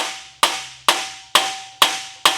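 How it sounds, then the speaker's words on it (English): Five sharp hammer blows strike a dented panel, evenly spaced with a short ringing decay after each, heard alone and close. "you can see that hammer action."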